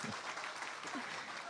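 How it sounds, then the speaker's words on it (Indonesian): Audience applause at a mosque inauguration, a dense, even wash of many hands clapping at once, heard faintly from a distance in a brief burst. "Tepuk tangannya kalau bisa serentak."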